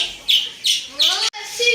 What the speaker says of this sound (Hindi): ये कौवे आ गए हैं, कौवे कलेजी मांग रहे हैं।